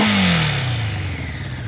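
A 1983 Honda CB650 Nighthawk motorcycle, freshly revived after ten years sitting with carburetors out of sync, revs loud and close, its engine note falling away as the throttle drops.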